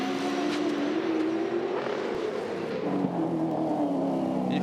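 A race car engine roars steadily at high revs during a motor race, a continuous loud, close drone with slight pitch shifts as the car is driven flat out.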